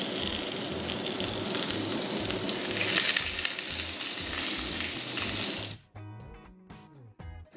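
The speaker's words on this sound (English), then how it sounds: "we want to roast the cabbage" Cabbage, still wrapped in cling film, searing in a hot pan, a loud steady sizzle with a rhythmic pulsing undertone that cuts off abruptly near the end, followed by a brief mechanical hum.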